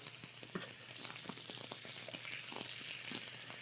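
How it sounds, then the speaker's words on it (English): Butter spooned over a steak in a hot pan, sizzling and frying in a steady, close hiss with soft crackles and light scraping taps of the spoon throughout. "We're going to spoon some of that beautiful butter right there, friends."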